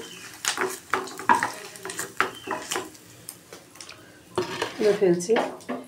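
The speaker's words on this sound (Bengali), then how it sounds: "এই দেখো ভাজা হয়ে গেছে, আমি সব পনিরগুলো তুলে ফেলছি" Fried paneer pieces being lifted out of a frying pan, with irregular metal utensil clinks and scrapes against the pan over a faint sizzle, close by and uneven in rhythm.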